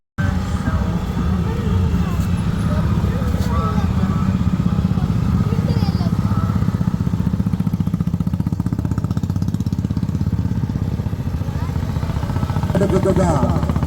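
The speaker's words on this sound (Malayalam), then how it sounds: "വാഹന പ്രചരണ ബൈക്ക് റാലിയാണ് ഈ പ്രദേശത്തിലൂടെ കടന്നു വരുന്നത്" Loud, continuous rumble of many motorbike engines revving and droning together nearby, with a crowd's voices and faint horns mixed in throughout.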